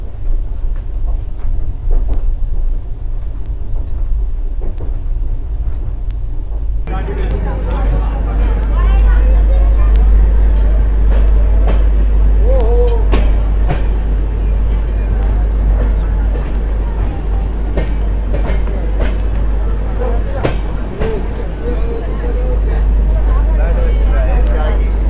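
Ashram Express train running, heard from inside a first AC coach, a constant deep low rumble with scattered clicks and rattles, louder after a few seconds, while someone talks throughout.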